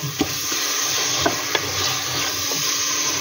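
Chicken is stirred in a hot frying pan, giving a bright continuous sizzle with a few scraping knocks from the spoon, close up and with no voices.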